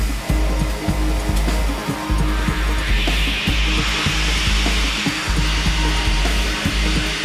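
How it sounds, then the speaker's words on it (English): Grit blasting with a high pressure hose strips old lead paint from steel, a loud continuous roaring hiss with rhythmic low thumps running steadily throughout. "This is grit blasting. The old lead paint is stripped away with a high pressure hose."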